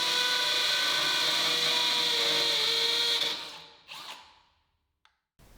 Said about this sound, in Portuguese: o primeiro furo é para testar a rotação da máquina a fazer o furo